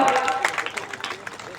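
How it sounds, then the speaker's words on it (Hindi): Crowd applause at a ceremony, a steady wash of clapping from many hands at moderate volume, with some murmuring voices mixed in. "जोरदार तालियां।"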